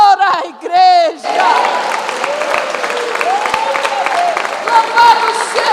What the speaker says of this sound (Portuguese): Aplaude o Senhor, a igreja.